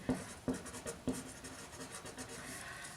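Pen writing pattern markings on paper, a few quick scratchy strokes near and quiet, with faint rubbing continuing underneath.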